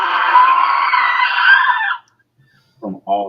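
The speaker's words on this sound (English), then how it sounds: "their sea witch is screaming, pointing at all of you" A sea witch screams during a tabletop role-playing game at sea, a loud, sustained shriek of about two seconds that cuts off abruptly, followed by a pause and a few short bursts of voice.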